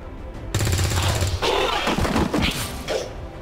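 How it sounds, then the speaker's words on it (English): Gunfire in the video game XCOM 2, a loud sharp burst followed by a rapid rattling volley of shots and mechanical clatter, close and dense for about three seconds. "so I'm going to shoot him anyway"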